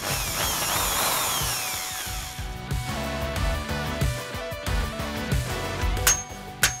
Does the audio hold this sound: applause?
no